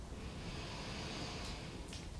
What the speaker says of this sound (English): Take a deep breath in and a deep breath out.